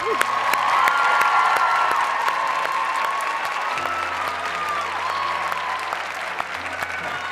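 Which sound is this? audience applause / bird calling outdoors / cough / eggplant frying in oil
audience applause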